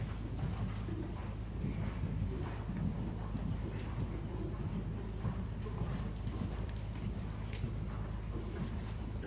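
Horse hooves thud and clip-clop steadily in an arena during flatwork riding, a continuous rhythmic beat at moderate distance with faint bird calls in the background.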